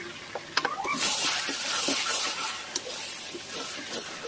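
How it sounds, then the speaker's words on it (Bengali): Chicken coated in cumin and chili powder is stirred in a pan, giving soft scraping and light sizzling hiss with a few sharp clicks of the spoon, fairly close and steady. "ভালো করে নেড়ে চেড়ে খুব সুন্দর করে পুরো চিকেনের গায়ে লাগিয়ে নিতে হবে"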